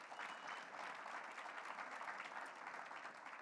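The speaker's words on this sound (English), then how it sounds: "Give that a round of applause" An audience at a business pitch competition gives a round of applause, a steady wash of many hands clapping, heard faint and from a distance.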